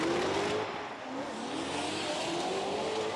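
Drift cars at a drift championship in Riga, Latvia, engines droning steadily with rising and falling pitch under a continuous wash of crowd and track noise, fairly distant.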